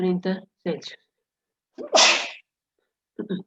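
A single loud, sharp sneeze bursts out in a classroom during a thermodynamics lecture, between short bits of speech.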